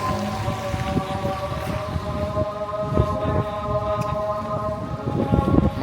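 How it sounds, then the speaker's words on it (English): A call to prayer drifts outdoors near the East London Mosque: a distant, sustained, melodic amplified voice holding long tones, partly buried under steady wind and street background noise. "No way, I can hear the adhan here."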